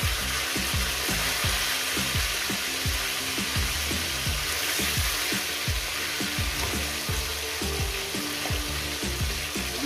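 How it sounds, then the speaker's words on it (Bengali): Catla fish heads fry in hot oil, producing a loud, continuous sizzle dense with rapid pops and crackles. It stays steady and close throughout, with no talking. "চাপা দিয়ে ভাজবো বন্ধুরা।"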